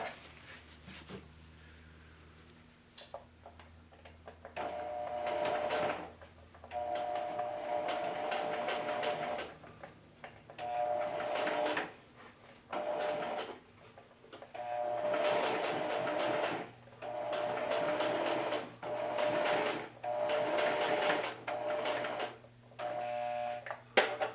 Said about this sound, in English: Now I'm going to take it off zigzag, do a straight stitch, make the stitch length about 4 millimeters